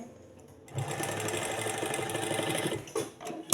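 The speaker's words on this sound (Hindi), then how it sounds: "इस तरह से आपने किनारे पर सिलाई को लाते हुए एंड कर देना है।" A sewing machine stitches along the edge of a fabric sleeve, starting up after a quiet moment and running in a steady, close, even whir before stopping, with a couple of short bursts afterward.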